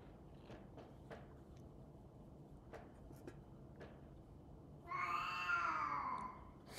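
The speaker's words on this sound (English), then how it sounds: "was the cat again, everybody." A hungry cat lets out one long, drawn-out meow near the microphone toward the end, after several seconds of faint clicks and light knocks in a quiet room.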